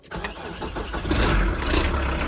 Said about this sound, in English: I'm going to turn the engine on.